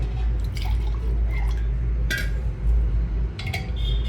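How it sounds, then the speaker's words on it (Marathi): Water splashes and trickles into a glass in a few short bursts over a steady low background hum, while cooking green chilli chicken sukka. "अर्धा पाऊन ग्लास पाणी टाकलेले"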